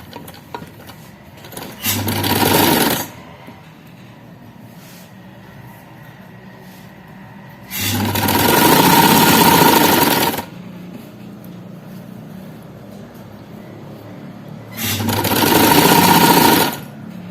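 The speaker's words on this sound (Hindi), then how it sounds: "ये यहां से बराबर रखेंगे यूं, इसी सिलाई पे सिलाई लगेगी।" An A-line frock is stitched on a sewing machine in three loud, steady runs of a few seconds each. Quieter handling of the cloth fills the pauses between runs.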